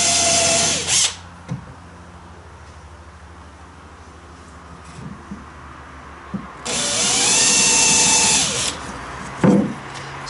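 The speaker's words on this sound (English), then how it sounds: "and then I can just drill" A power drill whirs in two short bursts about two seconds long, making shallow marking dents in wood for the knees of an Acorn dinghy thwart, with quiet handling noises in between.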